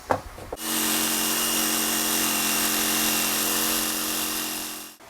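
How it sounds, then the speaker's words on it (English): A power jigsaw cuts through a guitar body template, starting after a couple of light knocks and then buzzing loud and steady with a strong whine for several seconds before stopping abruptly. "So now we got a hole in that template that we can start our jigsaw cut with."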